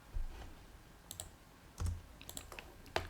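A T-SQL query is typed on a computer keyboard in quiet, irregular bursts of light clicks and key taps, some louder thuds among them, with no talking.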